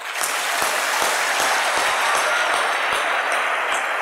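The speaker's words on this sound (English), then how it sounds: "So let's clap." Steady audience clapping at a motivational entrepreneurship talk, a continuous even wash of applause with sharp individual claps standing out, and no talking over it.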